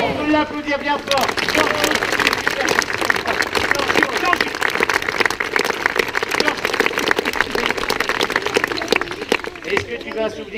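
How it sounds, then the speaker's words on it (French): A live audience claps steadily for a performer after an act, a dense sustained wash of applause lasting several seconds, with a voice heard briefly at the start and end. "On peut l'applaudir bien fort."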